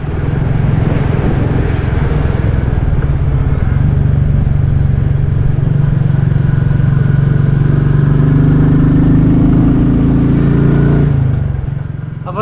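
A Royal Enfield Classic 350 single-cylinder engine thumps steadily while riding toward Seacliff, loud and close, rising through a couple of gear changes before the revs drop and the engine cuts off near the end.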